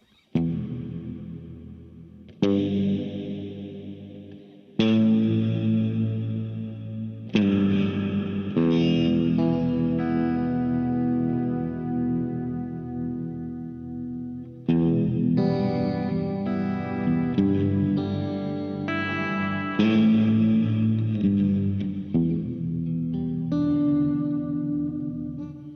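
Guitar through a Crazy Tube Circuits Mirage reverb pedal in octave-down mode: a series of struck chords and notes, each swelling into a deep, dark, lingering reverb wash, played alone and fairly loud.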